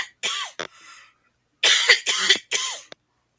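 A man with a respiratory illness coughs harshly and close up, in two groups: a single hacking cough with a short catch, then a rapid burst of three deep wet coughs and a faint final one.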